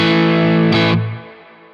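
A short burst of crunchy, mildly distorted electric guitar chord rings out through a Neural DSP Cortex modeler, then decays quickly.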